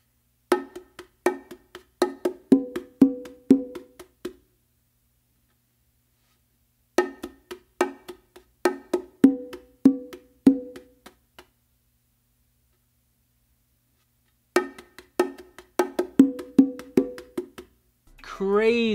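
Bongos play a ghost groove in three bursts of quick, crisp strikes, mixing accented hits and lighter taps in a busy rhythm, with silent gaps between phrases and a brief voice at the end.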